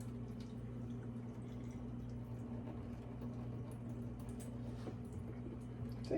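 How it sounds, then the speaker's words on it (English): Water from cooked lentils draining through a strainer, heard as a soft, continuous trickle and patter of drips close by, fairly quiet and steady throughout. "See, just want to drain the water."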